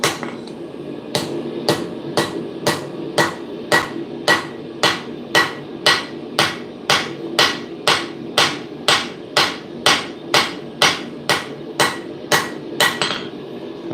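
Blacksmith's hammer striking a large forged blade on an anvil, about twenty-five sharp, ringing metallic blows in a steady even rhythm, loud and close, with a low workshop hum beneath.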